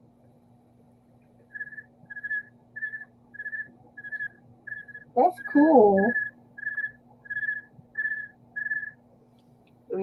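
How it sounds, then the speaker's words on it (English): A man whistles a run of short, even, steady notes at a near distance, pausing once midway when another person speaks briefly, then carrying on with the repeated bright tones over a faint background hum. "I can whistle."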